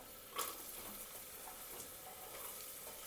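Onion frying with whole spices in a pan, a soft continuous sizzle with faint stirring scrapes, quiet and close with no voices.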